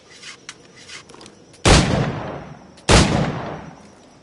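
A multi-shot firearm in Assassin's Creed IV Black Flag fires two loud, sharp blasts about a second apart, each with a ringing decay, after quieter scattered background noise.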